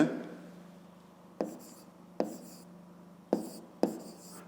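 Handwriting on paper, a quiet scratching with a few sharper taps as strokes land, close and unhurried.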